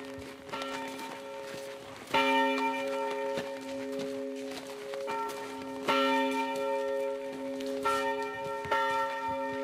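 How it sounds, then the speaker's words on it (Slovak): Church bells peal for Christmas in the village of Šumiac, Slovakia, with loud repeated strikes over a sustained, overlapping ringing that swells again at intervals. "Ej, ale či čujete už, ak začalo zvoniť?"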